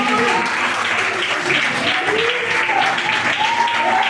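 A church congregation applauding during an evening service, a sustained wash of clapping heard together with voices and faint tonal sounds from a speaker or music.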